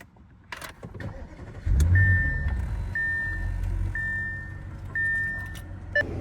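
A 2014 Audi S8 starts up nearby after a few clicks and key jingles. The engine cranks, catches and settles into a steady idle while a repeating chime beeps four or five times over it.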